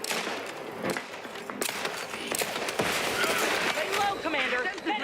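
Grenade explosion in the video game The Outer Worlds 2, a loud rumbling blast amid gunfire and battle noise, with voices talking over the chaotic combat.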